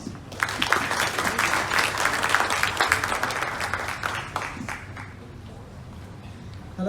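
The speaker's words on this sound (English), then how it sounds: "Round of applause" At a Hong Kong startup demo day, an audience breaks into a round of applause for the next presenter, a loud burst of many clapping hands that thins and fades over several seconds.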